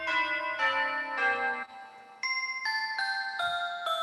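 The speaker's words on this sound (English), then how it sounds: "Church bells," A church bell preset on a Genius keyboard plays a sequence of about eight sustained, ringing bell tones with rich overtones, each note held and overlapping the next, clear and fairly loud with no speech.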